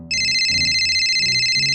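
A phone ringtone plays loud and steady at 1:23 a.m. beside an alarm clock, a bright repeating electronic melody lasting the whole moment with no talking.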